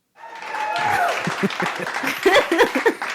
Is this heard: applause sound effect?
yes